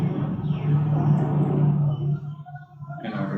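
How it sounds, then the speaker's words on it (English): Steady traffic rumble from passing cars outside, a continuous low drone that swells and then eases toward the end, with no voices. "Sorry for the noise, for the traffic."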